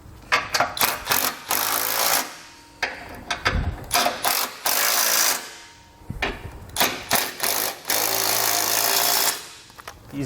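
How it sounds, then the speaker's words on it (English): Ratchet wrench snugging up the fasteners on an etrailer invisible base plate kit, with bursts of rapid close clicking broken by short pauses through the whole stretch, no voices. "we're just going to snug up all of our fasteners here to get everything nice and tight"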